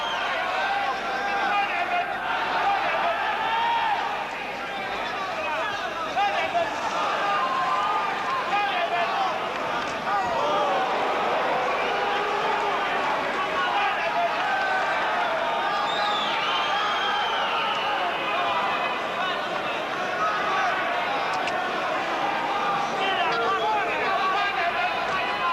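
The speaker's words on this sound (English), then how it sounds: "you only have to listen to this crowd at the Albert Hall to realise that" A boxing crowd at the Albert Hall roars and cheers continuously, a dense, loud wash of cheering, whoops and chatter, with a commentator talking over it throughout.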